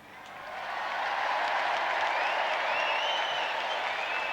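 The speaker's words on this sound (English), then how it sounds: "let's give them a cheer and make a rousing New Zealand beginning to the closing ceremonies" Stadium crowd at the closing ceremony of the 1990 Commonwealth Games in Auckland, applause and cheering swelling from quiet to a sustained distant roar, with faint whistles over the top.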